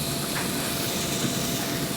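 Rib eye cap steaks sizzle on the open sear plate of a new Pit Boss table top pellet grill, a steady, close, loud hissing crackle with no break and no talking.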